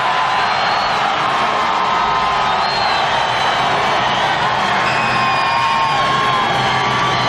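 A huge crowd at the 2004 Brickyard 400 at Indianapolis roars for Jeff Gordon as he climbs from his car on the yard of bricks, a loud, sustained wash of cheering and whoops with no break.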